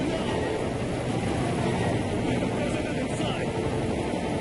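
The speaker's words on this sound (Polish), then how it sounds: "Dobra jest nasz helikopter ewakuacji." An evacuation helicopter in Call of Duty: Modern Warfare 3 thrums with a steady, broad rotor roar that stays constant throughout, under game noise and some voices.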